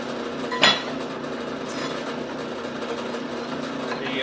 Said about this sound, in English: I've already drilled through 30 of these